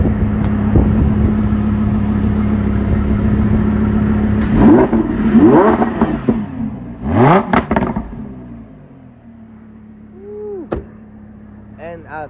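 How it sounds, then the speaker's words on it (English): A car engine held at a steady idle hum, then revved as the throttle is hit in several rising and falling surges, loud and close, ending with one short blip, with voices talking over parts of it. "Go hit the throttle."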